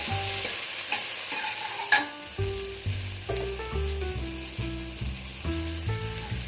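Onions and tomatoes sautéing in a pan for a spinach kootu, a continuous close sizzle with frequent stirring scrapes, under steady background music with one sharp clink early on.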